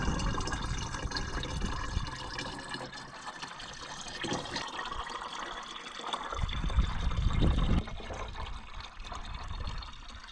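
Water pours and trickles into a container outdoors, to be mixed with antifreeze for a tractor, rising and gurgling unevenly before a louder splashing burst near the end.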